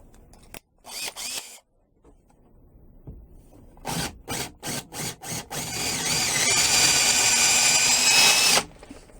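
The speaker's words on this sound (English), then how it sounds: "I think I'm going to go with the smaller drill first" A power drill boring into wood starts with a couple of short bursts, then several quick trigger pulses, then runs loud and continuous for a few seconds before stopping.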